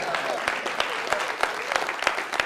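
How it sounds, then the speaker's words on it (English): An audience at a school gathering with guests from several groups claps steadily, a brisk patter of many hands with sharper individual claps standing out, fairly close and moderately loud. "Give yourselves a round of applause."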